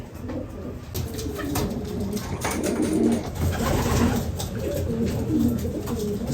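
About 80 pigeons coo in low, rolling murmurs that continue steadily, several birds overlapping against a constant background hiss.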